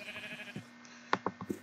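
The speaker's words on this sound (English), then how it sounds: "There are a lot of sheep." Sheep bleating in the Minecraft video game, several short game-style bleats in quick succession near the end, following a stretch of quieter background sound.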